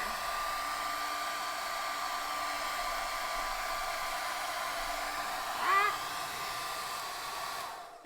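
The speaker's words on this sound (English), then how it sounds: "hit this with the blow dryer." Blow dryer running on cool over wet black paint on a painting, a steady close roar with a brief squeaky tonal blip near the end before it cuts off.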